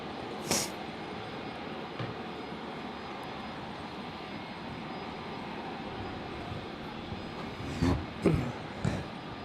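A fixed-wing airliner lands on runway 01 left at Brisbane Airport, its engine roar a steady, broad rumble throughout, with a few brief louder bursts near the start and end.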